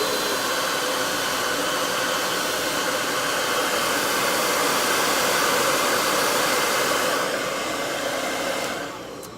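A heat styling tool blows hot air onto hair wound around a brush, a loud, steady whooshing drone up close that runs unbroken for about nine seconds before cutting off.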